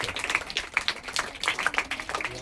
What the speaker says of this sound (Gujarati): દાદાને આપણે તાળીઓથી પ્રોત્સાહન આપીએ